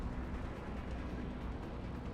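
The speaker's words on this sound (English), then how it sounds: "A nice big explosion." A big in-game explosion in XCOM 2 tears loose as a dense, steady low roar, loud and alone, with no voices over it.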